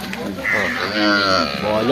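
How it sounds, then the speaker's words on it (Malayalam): A female buffalo at the Kollannur cattle market gives a drawn-out, close low moo lasting over a second, with market chatter and voices around it. "ഇത് എരുമോളെ പെൺപോത്താ പെൺപോത്ത്"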